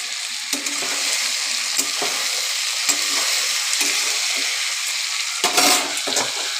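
Chopped tender bottle gourd goes into frying potatoes for lau ghonto and is stirred through, giving a steady close sizzle with repeated scraping stirs and small clatters of the spoon against the pan.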